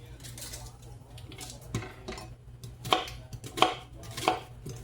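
Knife cutting cooked ribeye steak into slices on a board, a few sharp knocks and scrapes at uneven intervals, close, over a low kitchen hum.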